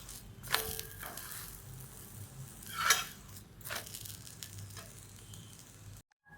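A Marathi-style dill (shepu) paratha roasting on a griddle with ghee, a low steady sizzle with a few sharper crackles and scrapes, fairly quiet, ending in a sudden silence.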